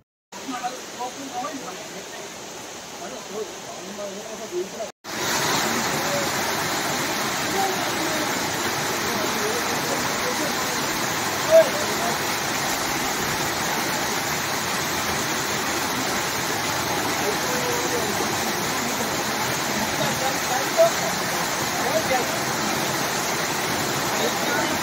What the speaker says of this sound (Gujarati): જટાશંકર મહાદેવ પહેલા રસ્તા પર પહાડો પરથી પાણીનો ધોધ પડે છે, જ્યાં લોકો નાહવાનો આનંદ લે છે.